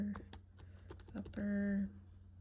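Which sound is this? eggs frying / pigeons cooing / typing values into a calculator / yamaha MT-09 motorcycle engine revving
typing values into a calculator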